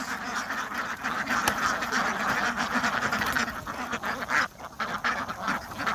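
A large flock of free-range native egg-laying ducks quacks continuously, a dense, overlapping chorus of many birds close by with no pauses.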